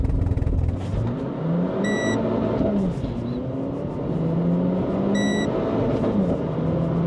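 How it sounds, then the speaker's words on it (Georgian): A sports car with paddle shifters, held on the brake, revs at full throttle in a loud launch-control burst, the engine note rising and falling in surges, with sharp beeps twice. "მოვკაჩოთ, გაუშვათ ხელი, გაზ ბოლომდე, ხმა გესმით"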